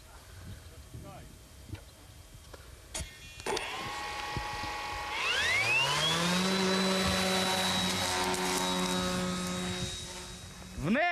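A Danish Heidrun reconnaissance drone launches in the field. After a few clicks and knocks, its small propeller motor whines up in pitch to a loud, steady, high buzz that holds close by.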